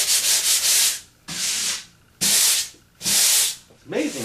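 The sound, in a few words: sanding a drywall patch with sandpaper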